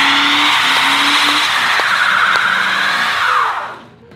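R/C Crown Vic car spinning a donut, a loud continuous tire squeal and whining motor that holds for several seconds, then fades out abruptly.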